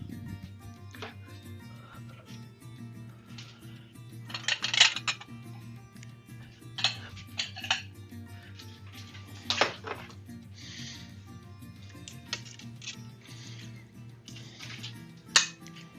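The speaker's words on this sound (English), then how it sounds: "Just give that a stir." Boar and chestnut stew is stirred in a deep pot, with scattered metallic clinks and knocks of a utensil against the pot over a low steady background hum, some taps sharper and louder than others.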